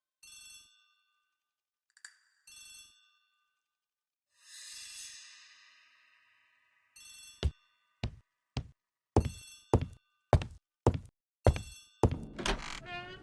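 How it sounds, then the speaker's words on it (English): An old-style telephone bell rings in a hallway in the game Agatha Christie: The ABC Murders, with several separate trilling rings, then a run of sharp knocking thuds and a clatter near the end. "The telephone in the hall is ringing."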